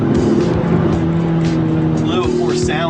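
A 2013 Hyundai Genesis Coupe with the direct-injection 3.8-liter engine drones steadily with a constant engine hum as it drives on a track, heard from inside the car while someone talks over it.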